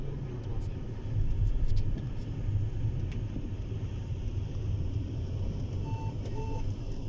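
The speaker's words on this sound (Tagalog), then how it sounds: "Traffic because today is Wednesday." Road traffic with passing cars on the way to Qatar University on a Wednesday, a steady low rumble of engines and tyres that swells briefly, with faint voices underneath.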